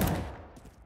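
A gunshot in Counter-Strike on the Mirage map: a sharp, loud burst at the very start that decays quickly into a brief fading tail, alone without talk.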